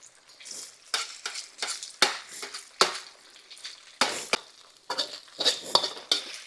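Chicken fried rice stirred and tossed in a wok, with quick metal scrapes and clatters in an irregular rhythm over a steady close sizzle.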